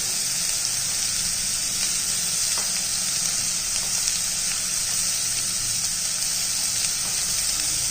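Chopped carrot and green chilli sauté in oil in a pan, giving a steady, close, continuous sizzle with occasional faint stirring scrapes and no voices.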